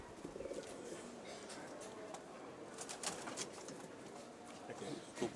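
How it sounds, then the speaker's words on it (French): Pomeranian pouter pigeons cooing at a farm exhibition during a Ramadan fair, soft repeated coos under faint crowd murmur and background hubbub. "Couple de boulons poméraniens. Pigeons."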